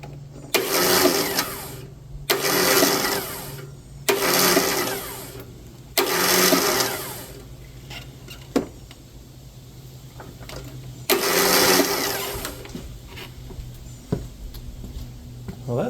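A Kohler engine's starter motor engages and cranks in five loud, steady bursts of about a second each, with short pauses between them, and a quieter mechanical hum continues under the gaps.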